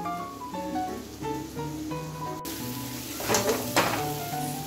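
Masala and vegetables frying in a pan for Indian-style salted rice, a steady close sizzle with a few louder stir-scrapes near the end, beneath faint background music.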